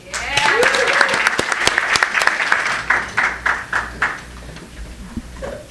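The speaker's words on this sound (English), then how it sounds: "So if everybody could give a round of applause for Sarah Mason." An audience at a plenary session breaks into sustained applause, dense and fairly loud, with sharp nearby claps standing out and a low hum underneath, gradually loosening into rhythmic clapping.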